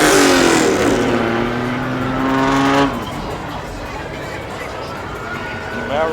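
A Chevrolet Camaro roars past close by, its engine note loud and rising then sweeping down as it passes, followed by fainter traffic, with people talking over it.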